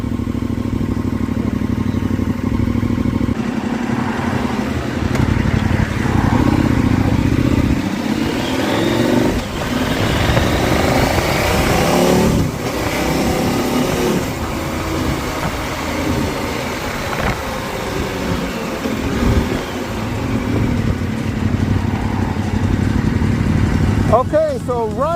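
A motorcycle fitted with a cheap eBay universal exhaust rumbles steadily and loudly at close range, idling and revving for about 25 seconds in a trailer park, with a brief higher whine near the end.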